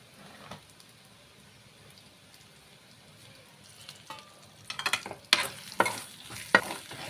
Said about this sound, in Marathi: चांगलं आपण हलवून घेऊ